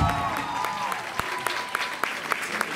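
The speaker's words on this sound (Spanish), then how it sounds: "Un aplauso para Fer en la guitarra" Light, scattered clapping for a guitarist at a live pop concert at La Trastienda, with a few sharp claps standing out over fading sustained musical tones.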